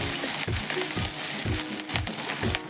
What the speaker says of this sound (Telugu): నూనె వేడైన తర్వాత మనం ముందుగా కట్ చేసుకున్న పచ్చిమిర్చీలను వేసి వేయించుకోవాలి